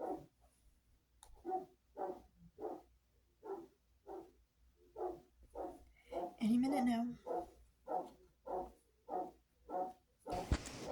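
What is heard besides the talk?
dog barking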